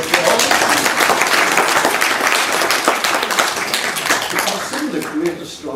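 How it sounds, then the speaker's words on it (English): A room full of astronomy-talk audience members claps steadily and loudly for several seconds, dense overlapping hand claps that thin slightly toward the end. "Thank you very much, Terry. A round of applause."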